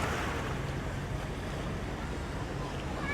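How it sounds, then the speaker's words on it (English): Wind buffeting the microphone over breaking surf on a Mallorca beach, a continuous low rumble and hiss of waves and gusts, moderately faint and unbroken, with no talk. "It is rather windy"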